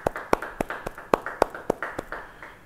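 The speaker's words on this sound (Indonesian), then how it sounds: "Beri tepuk tangan bagi dia" Sparse, uneven clapping from a small group at a church Bible study, roughly a dozen sharp claps over a few seconds, fairly close and with no talking.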